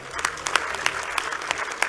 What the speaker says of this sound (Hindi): एक बार इनके लिए जोरदार तालियां बजा।